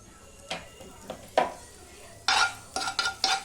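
Butter goes into a pan for dhaba-style paneer tikka masala, with clinks of a utensil against the pan, scraping stirs and a faint sizzle in a series of short close bursts.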